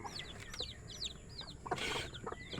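Hungry chickens and chicks cluck and cheep close by in rapid overlapping calls, with high peeping chirps from the chicks over lower hen clucks and a brief rustle.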